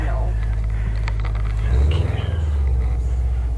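Old Subaru with a catless downpipe rumbling at idle, a deep steady drone that swells into a throbbing low burble partway through, with faint voices nearby.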